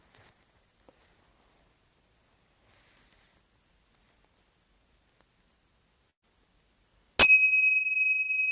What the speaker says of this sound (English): we'll start the practice with a bell